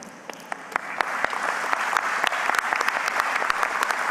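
Clapping for a group of guests at an industry forum, starting with a few scattered sharp claps and building into fuller, steady applause from a crowd in a hall.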